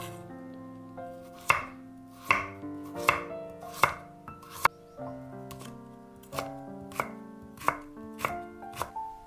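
Half a carrot being chopped with a knife on a cutting board, about a dozen crisp, evenly spaced cuts heard close up over soft background music.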